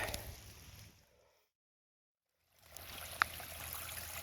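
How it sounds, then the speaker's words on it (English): Storm runoff rushes through a roadside culvert, a steady wash of flowing water that fades out into near silence, then returns with a brief sharp click partway through. "It's a whole lot of water moving now."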